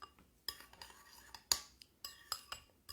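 A utensil stirs homemade BBQ sauce ingredients in a bowl, making quiet, sparse clinks and scrapes against the sides in irregular strokes, close and faint, with no talk.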